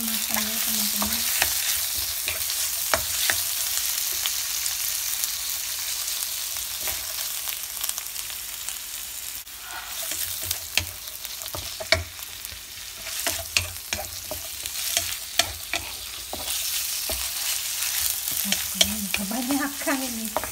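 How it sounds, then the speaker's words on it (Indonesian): Beef sautéed in a pan for nasi goreng Pattaya gives a steady, close, loud sizzle lasting throughout, broken by frequent sharp spatula scrapes and clicks against the pan, with no talking. "Kita tumis lagi sampai daging sapinya matang ya teman-teman."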